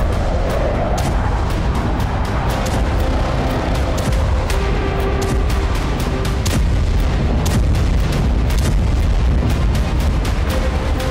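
Explosions from an attack on Russian air and naval bases in Crimea: a dense run of loud booms and sharp blasts, rapid and overlapping, against a heavy continuous rumble.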